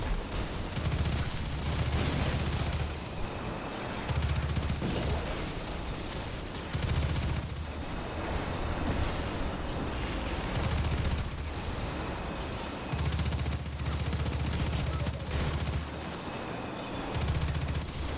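Arbalest linear fusion rifle firing in Destiny 2 during a strike, heavy booming shots in repeated bursts at a steady cadence over busy combat noise, loud and close, with no voices.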